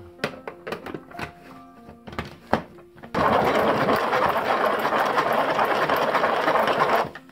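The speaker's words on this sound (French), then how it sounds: "Et je vais venir maintenant mixer le tout de cette manière-là." A blender whirs loudly and steadily for about four seconds, mixing wild garlic leaves, olive oil and egg into a paste for gnocchi, after a few light knocks and clinks.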